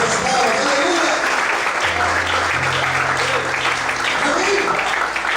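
A church congregation applauds during a worship service, with steady, dense clapping filling the whole stretch and a voice speaking over it.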